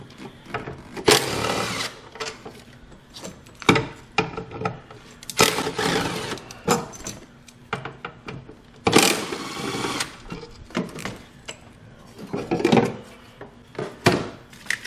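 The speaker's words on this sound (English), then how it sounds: "Let's get these 4 bolts that hold the PCM in out." A ratchet wrench loosens 10 mm bolts holding the PCM on a Ford 5.4L 3V engine, making bursts of rapid clicking and rattling broken by short pauses, close up and moderately loud, with no talking.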